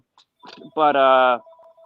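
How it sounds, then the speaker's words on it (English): A phone rings during a conversation: a single bright, buzzy electronic ringtone burst lasting just over half a second, loud and close, with faint voices before and a thin lingering tone after. "Oops, there goes my phone."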